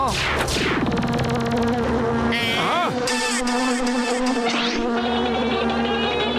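A cartoon mosquito buzzes in a Motu Patlu episode, a loud, close, whining drone that rises and falls in sweeping pitch glides, with a voiced character talking over it.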